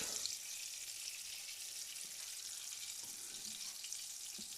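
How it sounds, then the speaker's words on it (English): A flounder fillet fries in a hot non-stick pan, a faint, even hiss of sizzling oil with occasional tiny pops, steady throughout and nothing else heard. "when you're cooking fish or putting anything into a hot pan, always lay it away from yourself"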